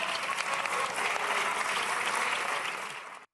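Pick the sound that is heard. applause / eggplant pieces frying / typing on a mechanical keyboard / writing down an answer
applause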